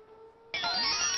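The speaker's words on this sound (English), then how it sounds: "I think it was some kind of machinery moving, but it sounded like a tornado siren." In the Super Mario Odyssey video game, moving machinery gives off a siren-like wail that starts abruptly after a quiet moment and holds as a loud, steady rising and falling tone.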